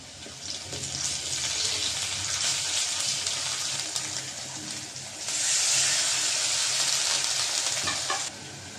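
Onion with ginger and garlic paste frying in hot oil in a pan, a steady sizzle throughout that swells louder and brighter midway, then drops back near the end, no voices.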